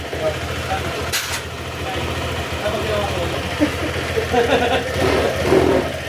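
A Honda Click 150 scooter engine idling while warming up after a valve clearance tune-up, a steady low rumble with slight ticking, close, under someone talking throughout.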